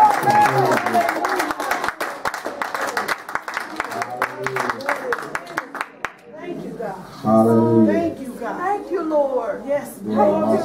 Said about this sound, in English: Let's give the Lord an offering of hands, claps, and praise.